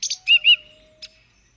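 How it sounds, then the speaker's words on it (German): A small, annoying pet bird in the video game The Book of Unwritten Tales chirps in two bright, close tweets, followed by a fainter single chirp, with no talking over it. "Das ist nur Cheep Cheep, mein kleiner nerviger Vogel."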